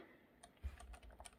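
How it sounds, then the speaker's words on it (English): Typing on a computer keyboard connected through a monitor's KVM switch: quick, faint key clicks in an irregular rhythm, close and alone. "if I type something, it's showing up here."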